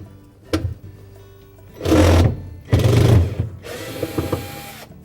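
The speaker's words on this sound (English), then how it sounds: "we're going to remove the two mounting screws that secure that bracket to the fan housing." A power driver whirs in a few short bursts, close and loud, backing out the screws that mount a refrigerator evaporator fan bracket to its housing, with quiet handling sounds between runs.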